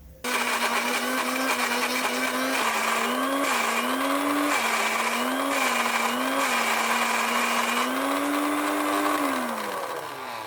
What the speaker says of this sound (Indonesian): Kali ini aku menghaluskan bumbunya dengan di blender.